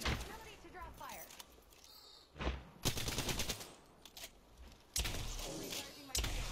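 Gunfire crackles during an Apex Legends firefight, with several short bursts of rapid shots rather faint and distant, mixed with game noise and a voice talking.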